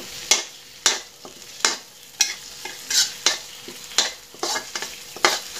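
Chili stir-fried in oil in a pan for a clam dish, with a spatula scraping and tossing in sharp regular strokes about twice a second over a low sizzle, close and clear without any voices.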